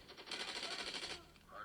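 Rapid automatic gunfire in a mobile shooter video game played on a Xiaomi Pad Mini, a fast even burst of shots lasting about a second, faint and thin.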